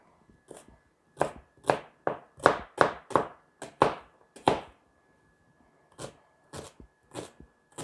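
A knife chops a peeled onion on a cutting board in a quick run of about ten crisp, close strikes, then pauses briefly before a few more chops.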